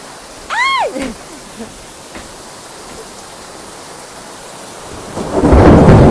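Heavy rain hisses steadily while a deep rumble of thunder builds loudly near the end; a brief whistling chirp sounds early on.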